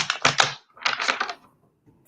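Tarot cards being shuffled indoors, three bursts of riffling, a pause, then another short flurry, close and fairly loud with no talk.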